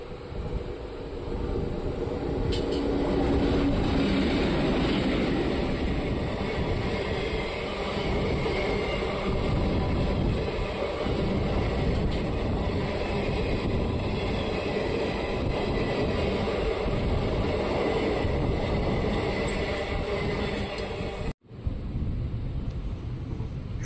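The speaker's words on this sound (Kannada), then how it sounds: "ವ್ಯಾಗ್ 7 ಲೋಕೋ ಮೂಲಕ ಚಿಕ್ಕಜಾಜೂರಿಂದ ಗುಂತ್ಕಲ್ಗೆ ಹೋಗೋ ಪ್ಯಾಸೆಂಜರ್ ಟ್ರೈನ್ ಬರ್ತಿದೆ" A passenger train hauled by a WAG-7 locomotive, running from Chikkajajur to Guntakal, rumbles past a railway gate near Challakere, a loud continuous roar and clatter of wagons lasting over twenty seconds before cutting off abruptly.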